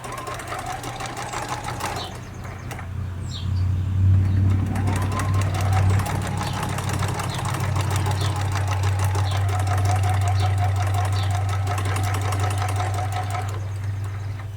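A domestic sewing machine stitches quilt pieces at a short 1.2 stitch length, a loud close mechanical whirr running in long bursts with brief stops, and a voice speaking over it at times.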